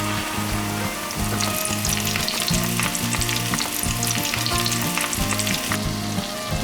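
A blooming onion drops into hot deep-frying oil, giving a loud, continuous sizzle and crackle of bubbling fat, steady and close, with a regular faint rhythmic pulse underneath.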